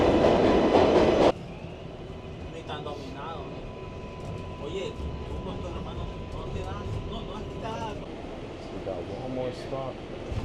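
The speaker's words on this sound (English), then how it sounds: "So apparently the train is on its way." A New York City subway train arrives and runs through a station on a frigid polar-vortex day, a steady rumbling rail roar with squealing tones and clatter, loud throughout, with a brief louder burst at the start and voices talking beneath.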